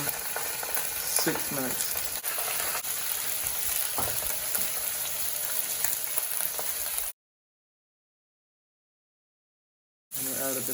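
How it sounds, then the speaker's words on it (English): Salmon fillets sizzle and crackle steadily in hot oil, skin side up, seasoned with salt and pepper, a continuous close frying hiss that cuts out briefly before resuming; a voice speaks a few words. "Now we're going to put the salmon in skin side up and we'll season with salt and pepper."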